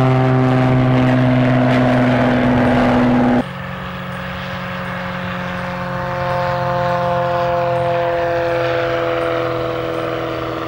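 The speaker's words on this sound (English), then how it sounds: "See for yourself what the R90 sounds like when compared to a beach bonanza." A steady propeller aircraft engine drones loudly throughout, a Ruschmeyer R90 compared with a Beech Bonanza, its pitch and tone shifting abruptly a few seconds in, then holding a lower, smoother hum.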